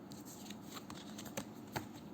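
A tarot card deck is handled and shuffled, giving soft papery riffles and light flicks with a few sharper snaps, quiet and close, with no talking.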